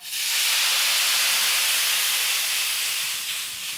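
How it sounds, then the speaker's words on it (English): Dry white wine poured into a hot pan just taken off the heat gives a loud, sustained steamy hiss that starts abruptly and holds steady for several seconds before easing slightly, close up with no talking. "I'm gonna take the pan off the heat and add the wine to it."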